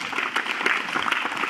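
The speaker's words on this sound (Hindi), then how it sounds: "एक बार इस बच्चे के लिए जोरदार तालियां बता देते।" Loud, dense audience applause for a young entrepreneur at a youth group gathering, a steady wash of many hands clapping close by with no pause.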